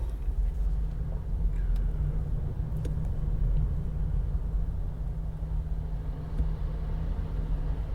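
A Kia Niro 1.6 GDI plug-in hybrid drives through city streets in electric mode, giving a steady low road rumble and faint tyre hum from inside the cabin, with no engine note rising above it.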